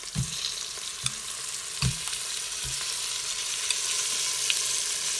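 Marinated paneer fries with onions in a hot pan, a steady close sizzle throughout with a few soft clinks and stirs of a utensil early on.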